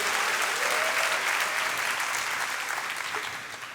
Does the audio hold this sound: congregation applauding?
yes